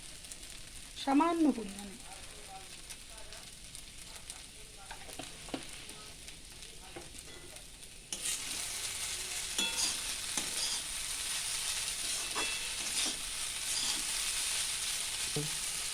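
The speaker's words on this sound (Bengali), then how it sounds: "এবার ওপর থেকে একটু ঘি দিয়ে দিচ্ছি" Ghee poured over chire pulao sizzles and fries steadily in the pan, a constant crackling hiss that grows louder midway, with a brief spoken phrase near the start and occasional stirring clinks.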